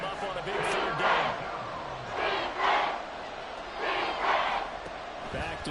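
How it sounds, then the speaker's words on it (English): Stadium crowd in the football video game Madden 24 roaring ahead of a big third down, a broad swelling cheer rising and falling in waves, with a commentator talking over it. "The crowd getting into it as we come up on a big 3rd down."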